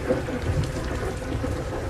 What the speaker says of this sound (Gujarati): ડીસા સહિત આસપાસના વિસ્તારોમાં હજુ પણ વરસાદ ચાલુ છે